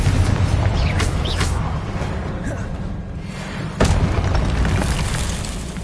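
In Hogwarts Legacy, Confringo explosions burst in heavy low booms and thuds, one sharp blast standing out over a dense, rumbling game soundscape with speech mixed in.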